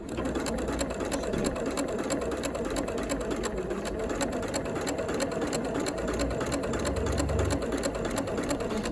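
A sewing machine with a walking foot stitches checked fabric, giving a close, continuous rapid mechanical chatter at an even pace for the whole stretch.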